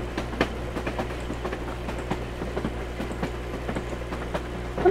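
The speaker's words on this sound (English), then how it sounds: "get on the train while it's pulling away." A train in a video game rolls along with steady rhythmic clickety-clack of wheels over rail joints and a low continuous rumble, moderately loud throughout.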